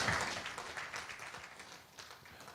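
Soft, steady clapping from a crowd, sustained and fairly distant, with no voices over it.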